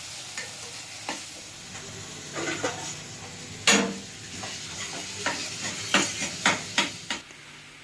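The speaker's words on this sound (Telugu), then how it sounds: "ముందుగా కరివేపాకు రెమ్మల్ని అలాగే సన్నగా తరిగి పెట్టుకున్న ఉల్లిపాయ ముక్కల్ని యాడ్ చేసుకున్నాను ఫ్రెండ్స్" Curry leaves and finely chopped onions fry in a pan for a drumstick egg curry, with a soft, steady sizzle and scattered spoon scrapes and clinks that grow more frequent toward the end. The sound is fairly quiet and has no talking.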